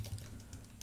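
Quick, light clicks of typing on a computer keyboard, a handful of soft keystrokes in under a second, faint and close.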